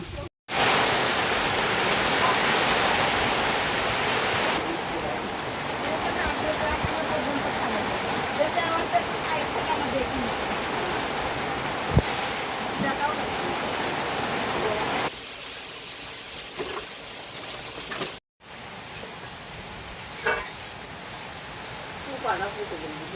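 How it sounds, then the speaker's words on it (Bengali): Steady broadband rain hiss arrives and persists at an outdoor cooking spot where biryani with duck eggs and chicken is being made, a loud continuous wash that thins and drops in level partway through. "বৃষ্টি চলে আসছে"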